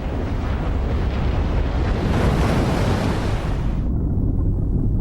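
Roaring rush of a giant wave caused by an earthquake, a loud, dense, continuous wash of water and wind-like noise that holds steady and then loses its high hiss toward the end.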